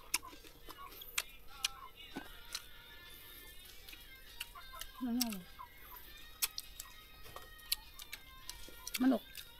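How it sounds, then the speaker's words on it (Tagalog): Chickens cluck faintly in a rural backyard near bamboo, with a couple of short clucking bursts among scattered ticking and clicking sounds in a quiet setting. "Manok."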